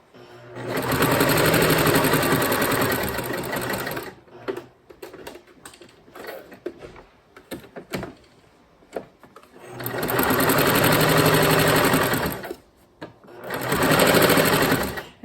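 A sewing machine stitches around a quilted hot pad in three long, loud running bursts, with quieter handling clicks and faint talk in the pauses between them.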